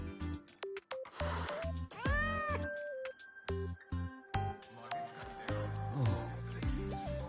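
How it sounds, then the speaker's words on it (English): A frightened, unregistered cat in Wuthering Waves gives a run of distinct meows, several rising and falling cries spaced over a few seconds, mixed with game music tones and chimes and no talking. "It doesn't seem to be a cat registered with the academy."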